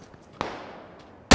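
Two sharp, loud reports from a first-person shooter game, one at the start of the firefight and another cutting in at the end, with a long decaying tail between them and no talk over the shots.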